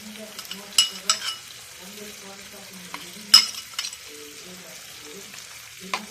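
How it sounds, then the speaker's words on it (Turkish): Beaten eggs frying over mushrooms in a covered pan, a steady soft sizzle with a few sharp clinks of utensils against the pan, close by. "Evet yumurtamızı, çarpılmış yumurtamızı mantarların üzerine ekliyoruz."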